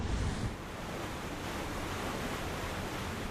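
Open-ocean waves and wind surround a military convoy crossing the Pacific, a steady broadband wash of surf with a louder surge at the start, then continuous rushing noise with no voices.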